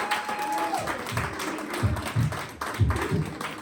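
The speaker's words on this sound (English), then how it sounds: "can we please have a round of applause for Ryan?" An audience claps for a contestant named Ryan at a Talent Search Cymru results show, a scattered round of applause that builds into several louder bursts.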